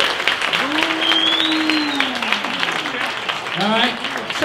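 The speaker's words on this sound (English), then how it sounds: "let's hear it. Yeah, just clap." A live comedy podcast audience claps steadily in a theater. Whoops and sliding vocal cries from the crowd rise over the applause, which is loud and continuous.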